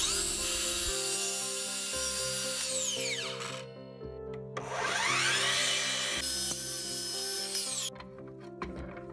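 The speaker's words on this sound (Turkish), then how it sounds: "Önce testere de uç kısımlarını düzeltiyorum." Steady buzzing of a power saw cutting through cherry wood, with rising and falling pitch sweeps as the blade bites in, fairly loud and continuous throughout.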